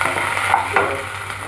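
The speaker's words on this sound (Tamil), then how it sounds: "இந்த வெங்காயத்தையும் நல்லா வதக்கிடுங்க." Onions sauté in a pan for hotel-style kara chutney, giving a steady soft sizzle with a brief stirring scrape, no talk over it.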